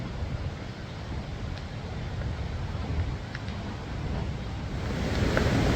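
Khone Phapheng waterfall in Laos, a constant broad roar of rushing water heard from nearby, steady and loud with some wind buffeting the microphone.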